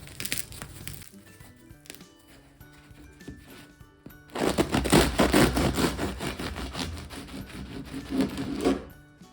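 Crispy crust of freshly baked rustic bread rolls crackling and crunching as they are pressed down, with faint crinkling at first and then a burst of louder, dense crackle close up.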